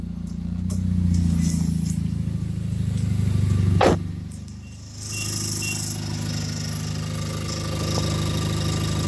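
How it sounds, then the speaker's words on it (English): A Nissan Juke NISMO idles steadily after being started, following a belt replacement in the rain. The engine gives a low, even rumble throughout, with a brief sharp knock partway through. "We're gonna start the juke."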